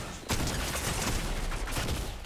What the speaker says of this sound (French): Là c'est fusil à pompe.